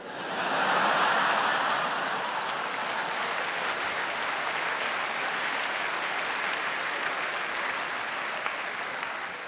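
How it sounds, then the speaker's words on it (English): A comedy audience at an Ed Byrne live stand-up show breaks into loud, sustained applause that swells early and then holds steady for about ten seconds. "I'm not sure if you're actually applauding"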